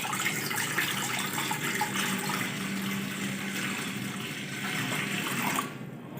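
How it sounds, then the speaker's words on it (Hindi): About one litre of water runs into a pot fitted with a steaming stand, a continuous splashing gush that holds steady for several seconds and then cuts off abruptly near the end. No one speaks. "पानी ऐड करेंगे तकरीबन 1 लीटर।"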